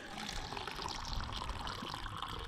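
Cider pours out of a bag of cider at a seaside camp in Dorset, a soft continuous liquid stream and trickle, faint and steady, with no talk.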